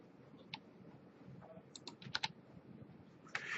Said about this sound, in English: We're going to hit the letter C on our keyboard.